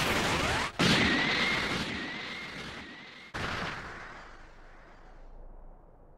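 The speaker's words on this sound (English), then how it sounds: "Special Beam Cannon!" Special Beam Cannon energy attack in Dragon Ball: Sparking! Zero, two loud blasting bursts each followed by a sustained bright whining, sizzling beam that slowly fades away.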